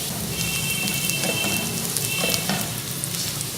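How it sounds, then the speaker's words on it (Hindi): Onion with whole garam masala frying in a pan for fish pulao, a steady dense crackle and sizzle running throughout with scattered pops, fairly loud and close, no talk. "गरम मसाला ऐड करके इसे 1 मिनट फ्राई करें।"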